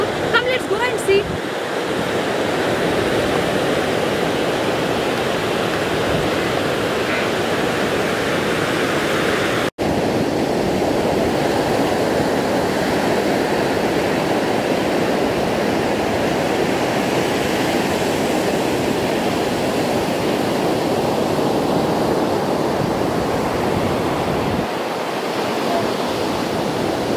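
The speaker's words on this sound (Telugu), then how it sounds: "this is completely white sand beach and waves కూడా చాలా నియర్ బై దాకా వస్తున్నాయి" Ocean waves break and wash up on a white sand beach in South Goa, a steady, continuous roar of surf that stays loud and close throughout, with a brief dip near the end.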